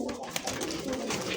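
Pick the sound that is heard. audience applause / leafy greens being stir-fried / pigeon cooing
pigeon cooing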